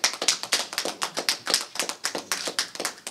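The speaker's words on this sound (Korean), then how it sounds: "조금만 박수 치시고 조금만 더 해주십시오." An audience at a Korean community association ceremony claps in distinct, fairly sparse rhythmic bursts, each clap sharp and separate, steady for about three seconds without talk.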